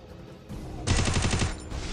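Free Fire video game gunfire: a rapid burst of automatic shots kicks in abruptly after a lower rumble, loud and evenly spaced for under a second before tailing off.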